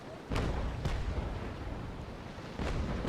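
Six-pounder cannons fire from a sailing warship in the Naval Action game, three sharp booms spread across the stretch, each over a continuous rumbling background, no voices.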